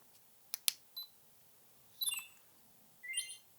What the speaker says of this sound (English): You can hear 2 shutter sound at the start and the beginning.